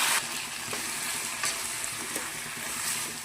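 Jackfruit tossed into a fried onion tempering sizzles steadily in the pan, a continuous crackling hiss broken by a few spoon scrapes and stirring knocks, close and moderately loud.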